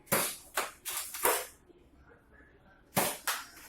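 Nerf guns fire foam darts in sharp, close pops: a quick burst of four shots, a pause, then two more, with faint talk in the background.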